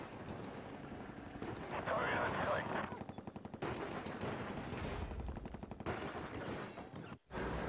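Rapid gunfire from the real-time strategy game Act of Aggression rattles steadily for several seconds as a unit comes under attack, dense and busy with a battle rumble underneath and a brief cutout near the end.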